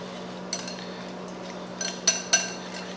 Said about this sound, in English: just grab your whisk, You want to combine all these together